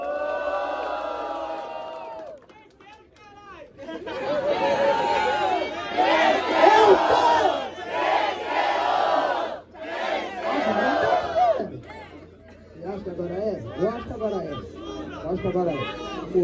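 Rap battle audience in Londrina, Brazil, roaring with cheers, shouts and whoops in loud sustained bursts, with an MC's amplified voice heard between and over the crowd noise.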